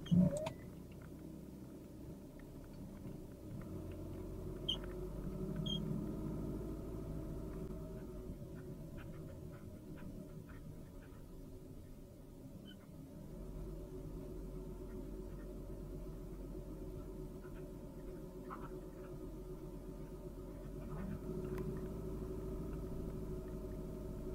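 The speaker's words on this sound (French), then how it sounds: "Ni une ni deux, je démarra le moteur" A car engine rumbles low and steady after a brief start-up burst, then carries on as the car pulls away and drives, a continuous muffled hum heard from inside.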